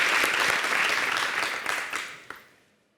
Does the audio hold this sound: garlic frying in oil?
no